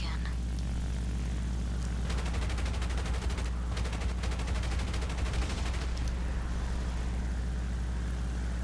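Rapid aircraft gunfire strafing artillery in War Thunder, a dense rattling burst of shots for several seconds amid steady engine drone and game noise.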